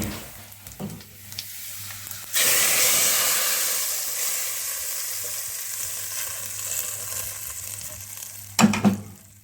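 A loud burst of sizzling as hot tempering is poured onto dhaba-style lentils, a sustained crackling hiss that slowly fades, with a few clinks near the end.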